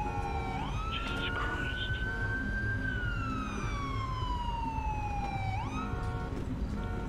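An ambulance siren arrives in the GTA police mod LSPDFR, wailing in long rising and falling sweeps that stay loud and steady throughout, with a brief exclamation spoken over it.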